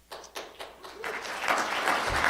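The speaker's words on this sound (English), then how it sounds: "if you just spontaneously start to applaud, then I'll shut up and allow it" An audience at a Tulsa Good News Summit breaks into spontaneous applause, scattered claps at first that swell into steady, full clapping from a crowd in a hall.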